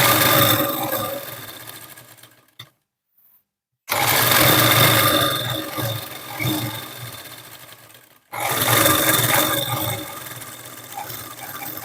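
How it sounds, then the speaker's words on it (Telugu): Sewing machine stitching along the edge of a blouse lining: two long runs of loud, steady whirring, separated by a short near-silent pause, then the motor starts again and hums on. "ఇప్పుడు పై వైపున మనకి మెయిన్ పార్ట్ లైనింగ్ పార్ట్ పైన ఒక స్టిచ్ వేసేసుకోవాలి ఎడ్జ్లో"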